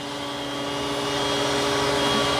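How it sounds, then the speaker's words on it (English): An iRobot Roomba Combo 10 Max robot vacuum running over carpet gives a steady, loud whirring drone with a constant tonal hum, unbroken for the whole stretch. "it's going to vacuum that carpet first"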